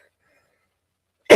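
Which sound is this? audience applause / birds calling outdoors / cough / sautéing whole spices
cough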